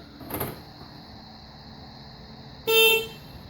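A 2009 Mini Cooper chirps its horn once on locking: a short, bright toot near the end, preceded by a faint click and quiet surroundings.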